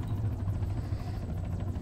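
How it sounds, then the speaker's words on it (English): Helicopter rotors spinning up in the Arma 3 Altis Life game, a steady low throbbing engine and blade hum, fairly faint and continuous without talk. "They're spinning up choppers."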